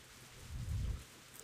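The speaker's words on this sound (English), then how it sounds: "I could hear thunder roaring in the distance. The rain began to pick up." Rain in the Higurashi visual novel game, with a low rumble of distant thunder swelling and fading under a steady rain hiss over a short span.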